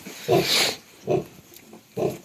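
Three short grunting squeals from 17-day-old piglets, close by, evenly spaced with brief pauses between them.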